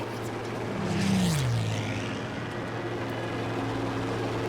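Propeller plane engine in Battlefield 5, a steady droning hum with a pitch that dips as the aircraft sweeps past, loud and continuous with no talking.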